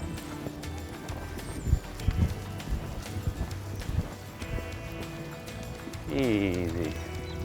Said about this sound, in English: Let's maintain a real good canter, Steph, yeah?